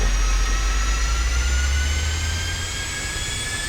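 PMDG 747 jet engines spool up for takeoff in a flight simulator, a loud steady roar with a deep low rumble and high whining tones climbing slowly in pitch, with no talk.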